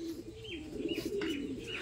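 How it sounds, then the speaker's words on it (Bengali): Domestic hand-rolling pigeons coo steadily in a low, throaty drone, with a few brighter chirps above, close by in a home loft holding many birds. "এগুলো হ্যান্ড রোলিং পিজনস বলে নাকি?"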